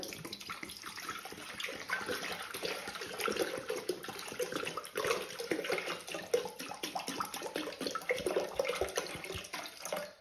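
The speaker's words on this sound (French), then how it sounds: "je vais mettre 1 kg d'eau dans le bol" About a litre of water pours steadily into a Thermomix bowl, a continuous close splashing gush that stays even from start to finish.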